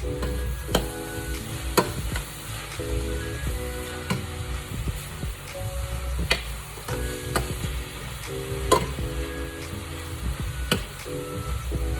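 Onions and cabbage fry in a pan with a continuous sizzle, broken by repeated scraping and clacking strokes of a utensil stirring the vegetables.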